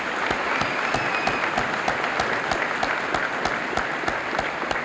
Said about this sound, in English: please join with me in the well-deserved applause for these outstanding seniors